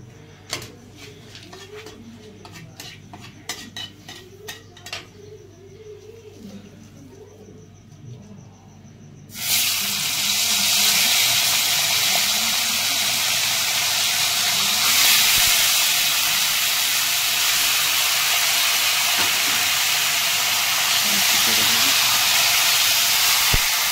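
Washed chicken dropped into hot oil with bay leaves erupts into a loud, continuous sizzling hiss after a quieter stretch of faint clinks and kitchen noise, the frying roar holding steady to the end.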